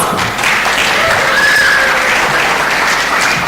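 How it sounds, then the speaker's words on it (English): Audience at a national exhibition applauding as a presentation ends, sustained loud clapping throughout with a faint tonal whistle briefly audible in the middle. "A round of applause."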